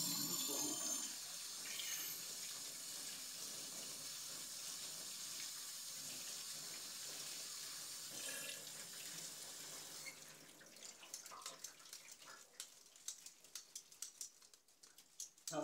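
Water drains from a pot of boiled Iwate egg noodles into a sink, a soft continuous pour that thins into scattered drips and splashes toward the end, fairly quiet and with no talking.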